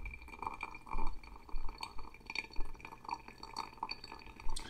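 Water trickles and drips steadily through pour-over coffee into a vessel, with soft liquid plinks recurring at an uneven rhythm, close by and fairly quiet.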